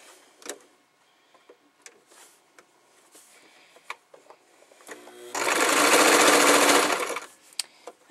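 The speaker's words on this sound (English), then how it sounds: "we will sew with a straight stitch down and along like a U." Sewing machine running a straight stitch through fluffy fabric for a pencil pouch, a loud steady whir lasting about two seconds after scattered quiet handling clicks and taps.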